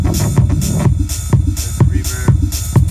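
Rhythmic music with punchy stabs from a sample pack recurring about every half second, each trailing into a reverberant wash, steady and loud throughout.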